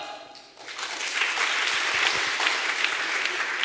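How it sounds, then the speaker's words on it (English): Conference audience at a lightning-talks session doing a finger clap: a dense, continuous patter of many light snapping taps that starts abruptly and holds steady. "at which point everyone does a finger clap"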